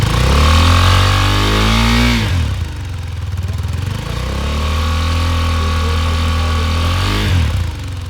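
A loud KTM RC 390 GP Edition motorcycle engine runs close by, rumbling steadily, then revs up and settles back twice with a deep throbbing exhaust note.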